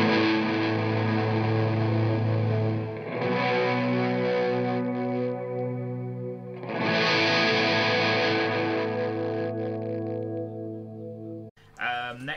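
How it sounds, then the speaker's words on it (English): Heavily fuzzed, distorted guitar chords through a Dr Scientist Bitquest pedal's reverb, washed in thick shoegaze-style reverb, sustained and droning in swelling waves, loud throughout before cutting off near the end. "This is a bit shoegazy, this reverb."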